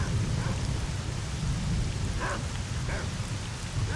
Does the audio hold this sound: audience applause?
no